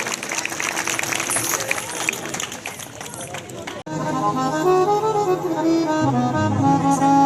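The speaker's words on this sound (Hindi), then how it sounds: "अगर झांकी पसंद आई जोरदार ताली बजा दीजिए।" An audience claps loudly for a tableau at a Mahashivratri event, with steady dense clapping under crowd noise for several seconds before music abruptly takes over.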